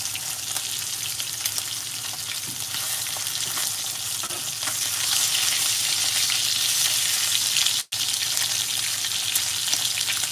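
Papaya sautés in a pan on a stove, a loud continuous sizzle and crackle of frying that holds steady throughout, with a brief cut near the end.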